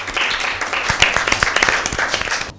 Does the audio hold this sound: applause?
yes